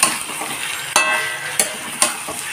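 Potatoes sizzling in a pan with chicken for a light Bengali chicken curry, a steady frying hiss broken by three or four sharp clinks of a spoon stirring against the metal pan.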